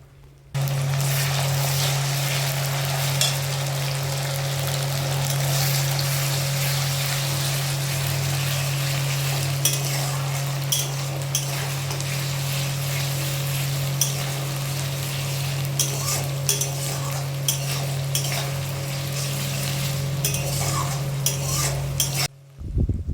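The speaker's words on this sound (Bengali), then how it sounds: "পেঁয়াজটা বেশ ভাজা ভাজা হয়ে গেছে, আর এরপর আমি দিয়ে দেবো বাকি যে মশলাটা রেখেছিলাম সেটা" Continuous sizzle of onions and spices frying, with frequent metal spoon scrapes and taps against the pan as they are stirred, over a steady low hum.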